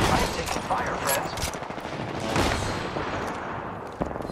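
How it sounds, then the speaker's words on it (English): Automatic gunfire in Apex Legends, a sustained rattling stream of rapid shots with dense bursts throughout, loud and close. "I am taking fire, friends."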